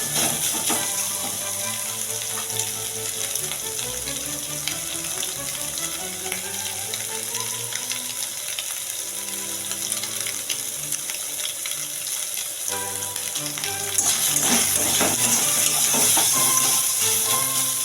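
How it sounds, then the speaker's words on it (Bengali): Soybean chunks fry in oil with a continuous dense sizzle that grows louder and brighter toward the end, under a faint background tone, with occasional stirring clatter. "সয়াবিনগুলো ভেজে নেব।"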